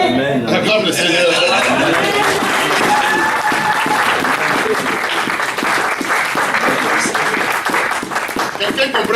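A church congregation applauds loudly in acclaim of the Lord, sustained dense clapping with scattered voices and cheers mixed through the crowd.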